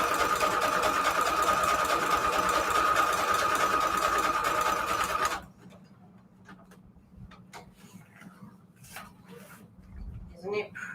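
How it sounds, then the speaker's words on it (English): A sewing machine stitches paper pages for a junk journal, whirring fast and steadily for about five seconds before stopping, followed by faint clicks and handling sounds. "This is the first sewing machine I've ever had."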